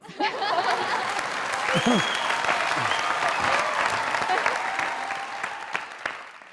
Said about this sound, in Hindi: हर तरफ तालियों की गूंज है, वाह वाह की आवाजें हैं